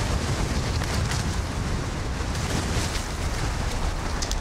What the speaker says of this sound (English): The wind just takes it away.